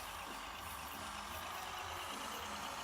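Heavy truck engine in the game Heavy Truck Simulator, a steady broadband drone and rumble that holds constant and loud throughout, with no voices over it.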